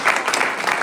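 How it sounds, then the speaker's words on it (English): Applause at a Berhampur University event, a round for the university's advisors. A brief, loud spell of crowd clapping, dense and rippling in small surges over less than a second. "give a huge round of applause to our advisors"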